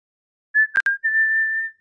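A person whistles to call a pet: a steady mid-pitched tone, two quick chirps, then a long sustained note, close and clear against silence.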